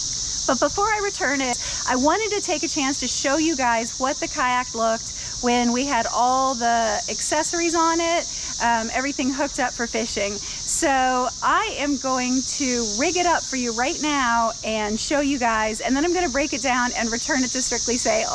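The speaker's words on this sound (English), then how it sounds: "It's summer in Cincinnati and we're having the 17-year cicada cycle thing." Seventeen-year periodical cicadas in a Cincinnati summer give a steady, loud, high-pitched droning buzz that runs without a break under someone speaking continuously throughout.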